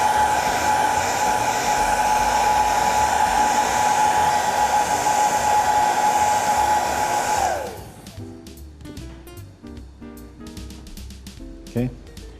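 A hair dryer blows to speed drying of leather repair filler on a hole, a loud steady whine for about eight seconds, then it stops and someone talks.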